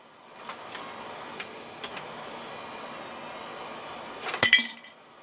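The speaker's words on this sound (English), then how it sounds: "I'm just surprised how well they're dropping into my little glass bucket there." Brass rifle cartridge cases, .308 being annealed, drop into a glass jar, with a few faint ticks and then a loud cluster of sharp clinks near the end.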